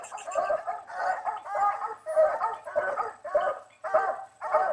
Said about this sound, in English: Lay down and bark at him, boy. Ace is a good coon dog.